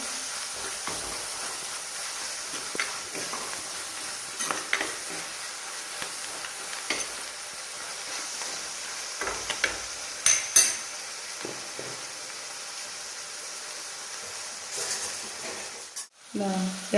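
Ingredients sautéing in a pan for a sardine curry, a soft continuous sizzle with scattered clinks and scrapes of a spoon, fairly quiet and close, ending with a louder clatter.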